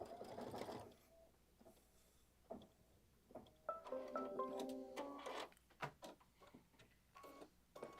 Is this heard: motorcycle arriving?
no